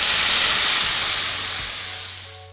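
Ground spice paste for a spicy Balinese-style tilapia dish hits hot oil in a pan, producing a loud, continuous close sizzle and hiss that slowly eases over a couple of seconds, with no talking.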